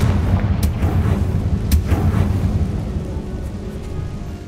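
A Confringo fire spell blasts in the PC game Hogwarts Legacy, a dull booming burst with a couple of sharp cracks that fades into a rumbling tail.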